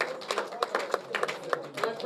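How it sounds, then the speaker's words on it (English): Audience applause for a Nigerian presidential candidate at a press event, with irregular individual claps standing out over a murmuring crowd and voices. "So another round of applause for our presidential candidate."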